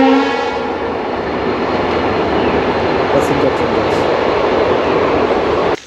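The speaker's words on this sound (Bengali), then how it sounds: "ট্রেনের হুইসেল শুনতে পাচ্ছি" A train passing through a forest near Mongpong sounds its horn at the start, then a loud, steady rumble of rolling wagons continues close by until it cuts off abruptly.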